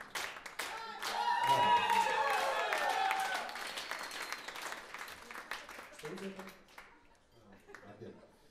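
A burst of clapping from an audience with some chuckles, swelling early then fading out toward the end, leaving a few scattered claps.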